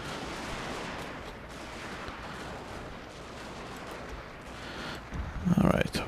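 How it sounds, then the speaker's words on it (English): Artillery and infantry gunfire in the video game Total War Shogun 2: Fall of the Samurai, a dense, continuous battle din of distant shots and rumble, swelling into a louder close burst near the end. "My artillery is still shooting the enemy, and the enemy bow cavalry is shooting my line infantry."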